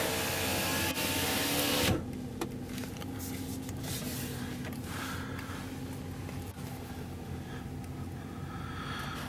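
One-touch power window motor on a 2014 Ram 1500 Big Horn truck gives a short, close mechanical whir at the start, then cuts off into a quieter cabin hum.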